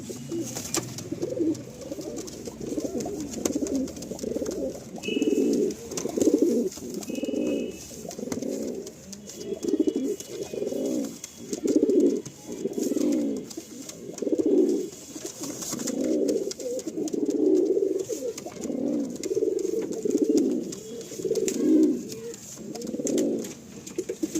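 Pigeons just let loose coo in repeated low throaty phrases, one after another in a steady rhythm, close and clear, with a faint chirp briefly above them.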